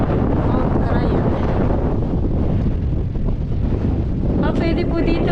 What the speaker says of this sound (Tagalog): baka hindi ka makapagluto sa lakas ng hangin